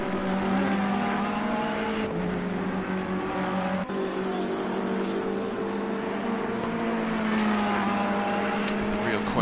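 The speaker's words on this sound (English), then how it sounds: "Got the two Ferraris now battling it out" Ferrari GT3 race cars battling at Laguna Seca in a racing video game, a steady, loud engine drone with shifting pitch as they accelerate and change gear, under live commentary.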